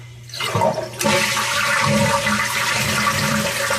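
A toilet fitted with a Korky Quiet Fill universal repair valve flushes with a sudden loud rushing surge of water that continues as a steady, close-up gush and refill hiss with no talking.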